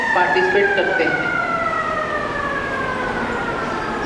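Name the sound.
siren signalling the start of the next school period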